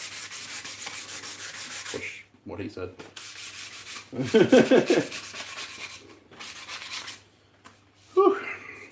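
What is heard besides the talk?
sanding wood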